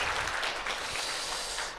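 A crowd at a speech event for company leaders applauds with a steady, dense wash of clapping that holds evenly for about two seconds, with no voices over it.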